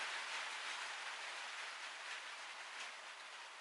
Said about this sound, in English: The sound of rain on a tin roof.